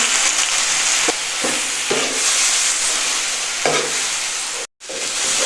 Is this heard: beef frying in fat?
yes